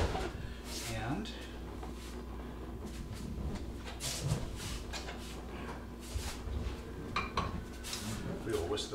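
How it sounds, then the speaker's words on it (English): Eggs and a little water are whisked in a bowl, giving quick repeated clinks and taps of the whisk against the bowl over light kitchen clatter, with a voice talking at times. "we will whisk those up."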